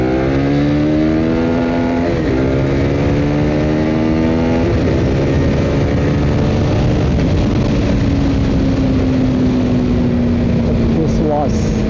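A KTM Duke 250 motorcycle accelerates hard in second gear, its loud engine note climbing steadily in pitch with brief dips where it shifts, heard close and continuous with rushing wind noise.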